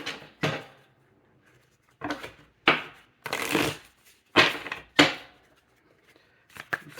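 Tarot cards are shuffled in several short, close bursts of riffling and slapping, separated by pauses, with no talk.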